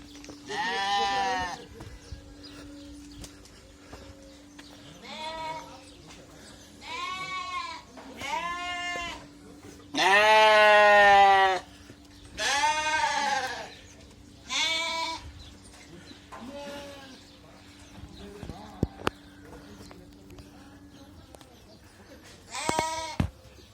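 Repeated sheep bleats in a village garden, some loud and close, others softer, spaced irregularly over a steady low hum, with brief speech in between.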